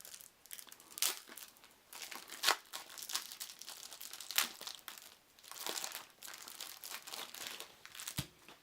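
Plastic wrapping torn and crumpled off card decks and game counters, with a run of close crinkling bursts and crackles at an irregular pace and quiet gaps between them.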